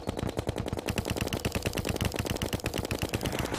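Rapid automatic gunfire from a weapon in Terraria, a dense, steady stream of sharp shots firing loud and close without pause, with no talking.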